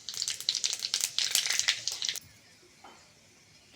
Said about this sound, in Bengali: 5 ফোড়ন ফোড়ন করে নেব